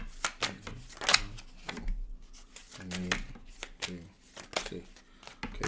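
Tarot cards are shuffled close by in several quick riffling bursts, with pauses and soft handling sounds between them.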